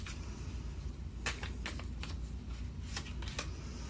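Tarot cards are shuffled close up, giving soft papery riffles and several sharper snaps of cards over a low steady background hum.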